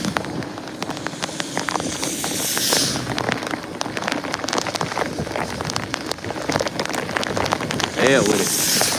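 Steady rain pours down outdoors on a wet, flooding street, a dense continuous hiss with scattered drip and splash transients, fairly loud and close throughout.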